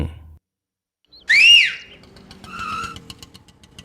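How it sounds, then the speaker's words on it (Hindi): A sharp, loud rising-and-falling human whistle, the kind used to hail an auto rickshaw, followed by a briefer second whistled note amid faint street noise. "ऑटो वाले को कैसे बुलाया? सीटी बजाकर।"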